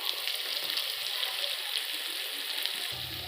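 Spices with chilli paste, salt and turmeric frying for ghugni, a continuous quiet sizzling hiss close by and steady throughout, with no talking.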